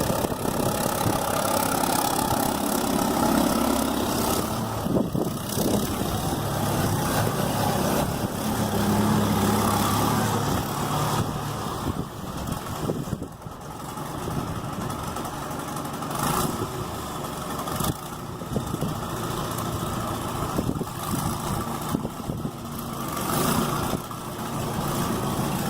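A John Deere 540B skidder engine runs at a steady idle, a continuous close mechanical rumble with slight dips and surges, alone without talk.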